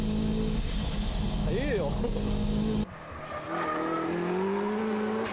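A 300-plus-horsepower car is driven hard on a mountain touge road, its engine droning loud and steady, dropping briefly, then climbing again as the revs rise, with a voice speaking over it.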